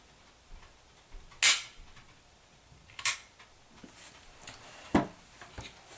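H&K P30 pistol fired in single action: three sharp, loud shots spaced about a second and a half apart, each a crisp crack with a short tail, over a quiet background.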